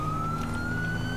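A police car siren in GTA 5 wails as a loud, steady, slowly rising tone over a constant low vehicle engine rumble, with no talking.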